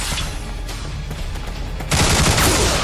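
Gunfire in the video game Bulletstorm comes as a dense, loud, continuous burst of rapid shots that swells louder partway through, with no voices over it.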